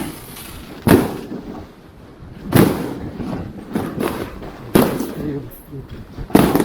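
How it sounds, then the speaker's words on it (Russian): Fireworks bursting across a New Year's night in Yakutsk, with several sharp booming pops spaced a second or two apart, some near and loud, others fainter and distant, with a voice talking between them. "Фейерверк. Хорошо так хлопает."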